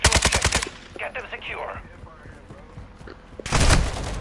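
Video game gunfire bursts out in rapid automatic volleys, loud and close, then gives way to scattered quieter shots and game noise before another heavy burst hits at the end.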